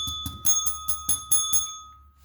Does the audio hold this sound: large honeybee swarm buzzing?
no